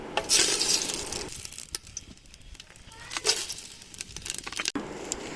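Whole biryani spices sizzling in hot oil and ghee for a hotel-style chicken dum biryani, bursts of frying hiss with stirring scrapes and pan clatter, close up, fading and swelling again, no talking.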